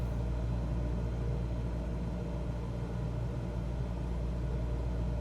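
Aircraft engine in Microsoft Flight Simulator, throttle being advanced at about 1,400 feet: a steady, continuous low droning rumble with no clear rise, holding at a constant level throughout.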